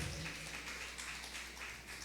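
A church congregation applauding, a soft, steady wash of many hands clapping at a distance, faint and brief with no talk over it.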